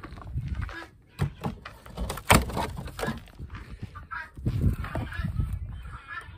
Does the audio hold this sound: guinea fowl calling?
yes